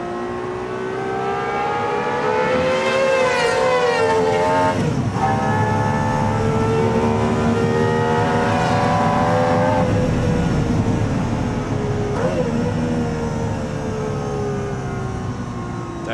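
A Gordon Murray T.33 Spider or T.50 sports car engine revs loudly and continuously on the Goodwood track, pitch climbing through gears and dropping at shifts, heard from inside the car at speed.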